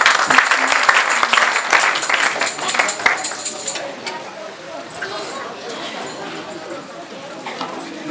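Church congregation applauds in a burst of rhythmic, loud clapping that tapers off after a few seconds into a murmuring room with voices.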